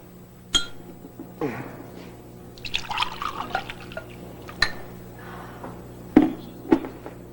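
Water poured into a glass for a drink, with clinks and drips in a short sequence against a quiet indoor room tone, ending in a couple of louder glass knocks.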